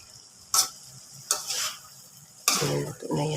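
Sardines and tomatoes being stir-fried in a pan, with three sharp scraping strokes of a spatula as the fish is crushed, followed by a soft ongoing sizzle.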